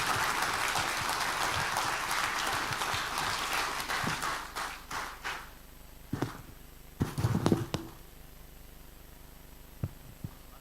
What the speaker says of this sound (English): I think you can keep the applause going